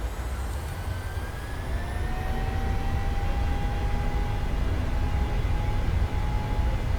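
Boeing 737 jet engines spool up to takeoff thrust in Microsoft Flight Simulator 2020, a broad steady roar with a rising whine sweeping upward, building slightly louder and holding constant.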